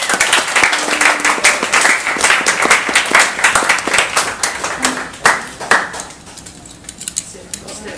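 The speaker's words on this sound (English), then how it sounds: "I would like us to all put a huge round of applause to the JoCo Cruise" Audience applause for the JoCo Cruise Quartet at a variety show aboard a cruise ship, a dense, steady roar of clapping hands that holds strong and then begins to thin toward the end.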